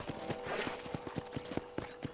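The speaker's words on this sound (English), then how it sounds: "I picked out a fine horse for you." Horse hooves clip-clop at a steady walking rhythm in the game Red Dead Redemption, clear and fairly close against a faint ambient background.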